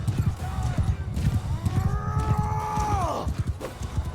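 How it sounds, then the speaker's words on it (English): A horse in the video game Mount and Blade II Bannerlord, with a rhythmic run of hoofbeats and a clear neigh midway, heard over battle noise. "This horse is fast."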